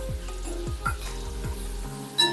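Tempering of turmeric and eight to ten curry leaves sizzling in a pan while being stirred, a steady close crackle with repeated scraping spoon strokes and a light clink at the end.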